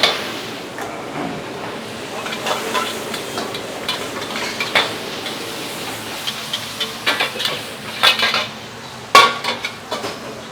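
Seafood capcay stir-fried in a wok at a food stall, with steady sizzling under repeated scraping and clanking of a metal spatula against the pan, the strikes growing louder and more frequent toward the end.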